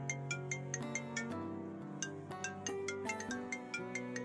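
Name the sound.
mobile phone ringing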